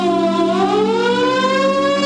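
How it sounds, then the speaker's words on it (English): A loud air raid siren wails with a rising, sustained tone, close and steady throughout, with no voices. "Siren sounds."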